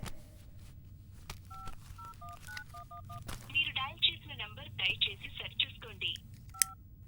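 A phone number is dialed on a telephone keypad, with a string of short touch-tone beeps followed by a quicker run of chirpy electronic tones and one last beep, all over a low background hum.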